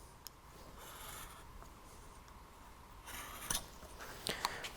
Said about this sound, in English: I'm also going to score these lines for the shoulder cut of the tenon.